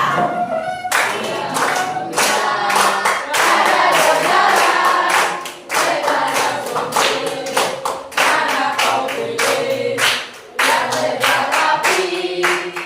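Church audience clapping in rhythm along to a song, loud, close, sharp claps in a steady beat, with a few brief pauses.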